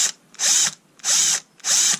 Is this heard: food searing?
no